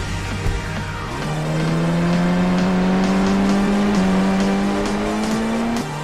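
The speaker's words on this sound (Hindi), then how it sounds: "मैं अपनी गाड़ी को लेकर यहाँ से जा ही रहा था" A car in a video game pulls away with a rising engine note that holds steady as it drives off, loud and continuous, with a faint tire squeal near the start.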